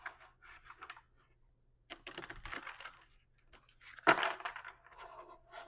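Tarot cards are shuffled by hand on a table, giving soft papery riffles and scrapes in short bursts separated by brief pauses, close and quiet.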